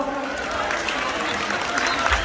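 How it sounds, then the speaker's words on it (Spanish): Wedding guests at a Purépecha celebration in Morristown, Tennessee applaud the newly announced couple, a dense, steady wash of many hands clapping at close range for the whole stretch, with crowd voices mixed in. "Por favor, fuerte el aplauso para la familia Ramos Vargas, que escuche el aplauso"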